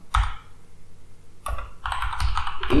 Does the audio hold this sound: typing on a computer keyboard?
yes